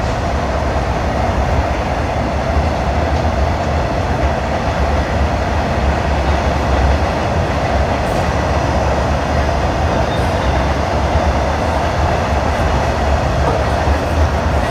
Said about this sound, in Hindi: तो यहाँ पे हमारा जो लोकोमोटिव है वो रिवर्स हो चुका है।